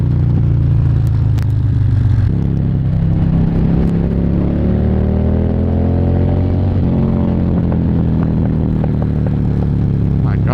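Harley-Davidson motorcycle engine revving loudly up close, with a steady throaty idle rising and falling through throttle blips and a few sharp pops, continuous and alone.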